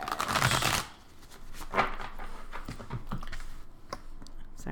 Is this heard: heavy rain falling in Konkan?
no